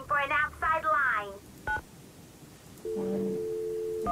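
A telephone keypad is dialed in the Nancy Drew game Secret of the Scarlet Hand. A voice speaks briefly, then a steady electronic keypad tone sounds alone for the last second or so.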